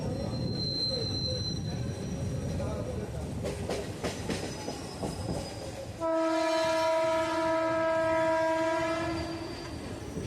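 A Panskura local train runs on rails toward Uluberia, rumbling and clattering with squealing wheels, then a loud, sustained horn blast sounds close by in the second half.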